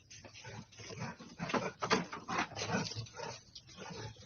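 Dogs barking and whining some distance away outdoors, a run of uneven yelps and barks of moderate loudness over a steady background hum.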